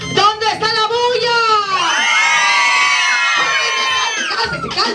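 Children at a birthday party shout and cheer loudly together, a sustained high-pitched roar of young voices rising and holding near the microphone, with an adult voice urging them on at the start.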